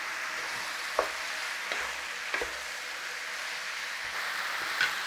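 Topside beef cooking in a pot, with a faint, continuous sizzle and bubbling and a few soft clicks of a spoon or lid, heard close and quiet.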